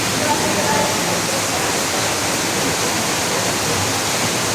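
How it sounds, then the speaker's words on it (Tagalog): Spring water rushes through a forest stream near Silang, Cavite, a loud steady broadband wash with no breaks and voices faintly present under the flow. "parang bukal. Tumutuloy yung tubig."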